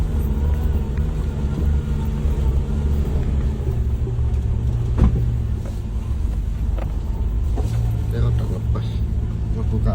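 A car travels over a rough, difficult road, its low engine rumble and jolting bumps steady throughout, with people talking inside over the noise.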